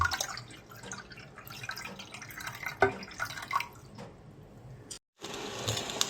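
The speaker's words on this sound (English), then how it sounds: "Boil about 1 liter of water in a pot." About a liter of water runs into a cooking pot for boiling, a steady close splashing and trickling stream with occasional drips, broken by a brief silence near the end before the flow resumes.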